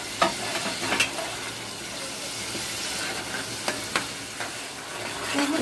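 Dry spices fry and get stirred in a pan, giving a loud continuous sizzle with a few scattered scrapes and taps of a spoon.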